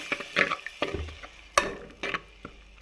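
Tamarind water in a pan, for fish curry, bubbles and spits with a soft sizzle, broken up by several sharp scraping knocks from a utensil against the pan.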